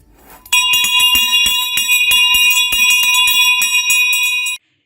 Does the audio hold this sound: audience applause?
no